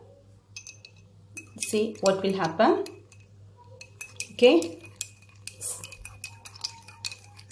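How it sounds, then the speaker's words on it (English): A spoon stirs salt into a glass of water, clinking sharply against the glass in quick taps and swirls, while a teacher speaks in between. "So I am adding, see, spoon of salt, the glass of water."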